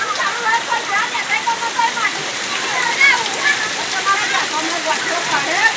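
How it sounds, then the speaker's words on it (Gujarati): Rain falls in a steady, loud, close hiss while people talk continuously over it. "આ વરસાદ છે"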